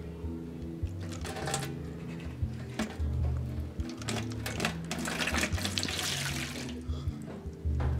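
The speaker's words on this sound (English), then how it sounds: "now we're gonna commence the pouring process" Water pours into a bottle in a steady, close stream lasting several seconds, its gurgle rising and falling with a few brief breaks as the flow is adjusted.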